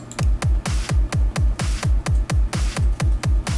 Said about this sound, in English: It's the drum part that I was talking about later.